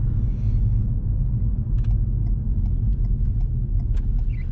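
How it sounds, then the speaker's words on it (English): A manual car engine hums with a steady low rumble as it pulls away smoothly, accelerator gently pressed and clutch eased up, heard from inside the car without talking. "Depress the accelerator for more speed and let the clutch come up smoothly."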